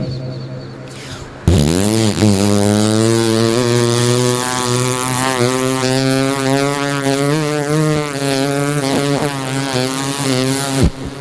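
A voice imitates a loud motorbike engine with its silencer removed, a sustained buzzing drone that rises sharply at the start and revs unevenly before cutting off.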